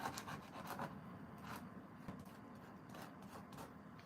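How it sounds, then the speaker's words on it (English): A pencil eraser rubbed against sandpaper while shaping it for a drawing, a faint, close, dry rasping in short repeated strokes with no talk. "Rough it up on my sandpaper."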